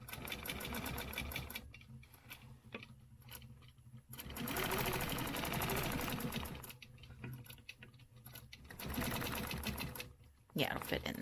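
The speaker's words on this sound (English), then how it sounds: "So I'm going to restitch back down this line." A sewing machine stitches quarter-inch lines on a stencil quilting design in rapid, close whirring bursts of several seconds, separated by short pauses and light clicks.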